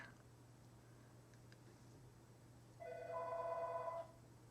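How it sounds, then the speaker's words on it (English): A telephone rings once with a bright electronic trill, faint against a steady low hum. "telephone's ringing."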